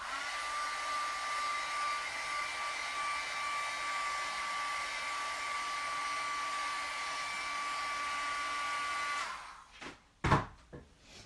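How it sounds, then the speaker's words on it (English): A small handheld dryer blows steadily on wet watercolor paint, giving a constant whirring hum for about nine seconds. It then cuts off, followed by a few sharp knocks and clatters as it is set down. "Let me go grab my little dryer."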